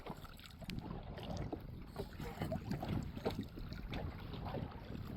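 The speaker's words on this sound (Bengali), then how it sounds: "যেমন হাওয়া হচ্ছে তেমন ঢেউ হচ্ছে" Wind buffets a small boat in the middle of the Garal river on a winter morning, with steady gusty rumble and small waves lapping and knocking against the hull throughout.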